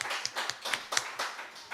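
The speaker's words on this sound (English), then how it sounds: "Big round of applause before we start hearing all this good stuff." An audience claps briefly to welcome the mayor at a recovery show event, a short, light patter of hands that sounds fairly distant and sparse.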